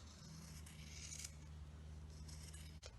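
Scissors cut through pinned fabric in quiet, close snips and soft slicing scrapes, with a low hum underneath and no talking.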